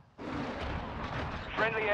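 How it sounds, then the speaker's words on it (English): Cruise missile strike in Call of Duty: Modern Warfare II: a sudden loud explosion that erupts into a sustained roaring rumble, with a voice briefly heard near the end. "Friendly cruise missile deployed."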